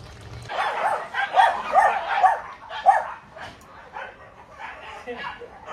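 Several dogs barking and yelping in a scuffle near a home, with overlapping yips and whimpers in bursts throughout, fairly close and loud, while a person speaks amid the commotion.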